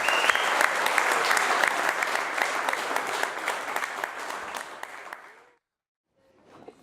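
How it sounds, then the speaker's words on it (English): A wedding reception crowd gives a big, sustained round of applause for the newlyweds' first dance, loud and steady for about five seconds before cutting off, with faint sound returning afterward. "This time we give them a big round of applause for their first dance as newlyweds."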